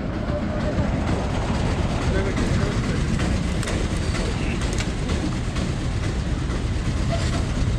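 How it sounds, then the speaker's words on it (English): An old train passing nearby, heard as a loud, continuous, close rumble with rattling clatter that holds steady throughout, with voices mixed in. "Kitni purani train thi yaar."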